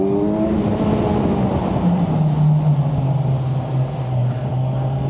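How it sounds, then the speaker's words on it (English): A Kawasaki 1000SX motorcycle fitted with an Akrapovic exhaust roars steadily through a tunnel, its loud, reverberant engine note rising and holding through the run with no voices. "That Acra can sounds good in the tunnel"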